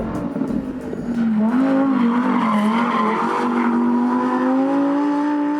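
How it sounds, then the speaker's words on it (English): Lamborghini Huracán STO driven fast on a race track, its engine note rising and sliding through gears with tire squeal, a loud, close, continuous howl that builds after a brief lower start. "this guy is driving this car really fast on this track"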